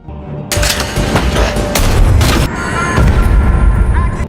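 A large-caliber machine gun firing in a film scene, with loud sustained bursts of heavy gunfire and booming impacts that run almost continuously.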